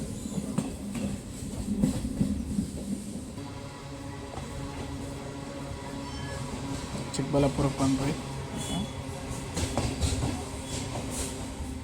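A KSR Bengaluru–Kolar MEMU passenger train rolls along with a steady rumble and rhythmic clickety-clack of wheels on the rails, heard from inside the coach while someone talks over it.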